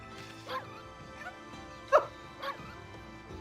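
A dog in the Okami video game gives three short, fairly soft yips over a low game background, spaced unevenly across a few seconds.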